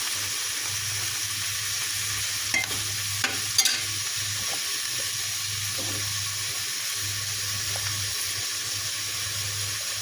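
Onion and a ground paste of ginger, garlic, coriander and cumin frying with a splash of water in a pan, with a continuous sizzle and steady scraping of a spoon, a few sharper clinks midway, no voices.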